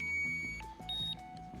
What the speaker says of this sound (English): Timer 1 elapsed.